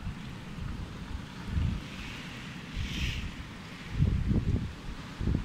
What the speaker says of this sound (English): Oh my God, there comes the wind.